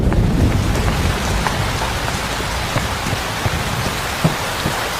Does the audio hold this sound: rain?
yes